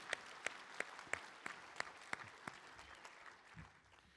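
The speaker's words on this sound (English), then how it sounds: "Join me in applauding the trustees and the staff who've led this effort." At a public speech, faint, sparse claps ring out at an even, slow pace, each one distinct and quiet. They trail off into near silence toward the end.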